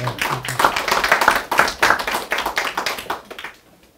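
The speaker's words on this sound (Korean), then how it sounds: "박수 한번 주세요." A small audience at a Gimcheon colloquium event claps in a lively burst of distinct hand claps, fairly close and loud, then tapers off and ends near the close.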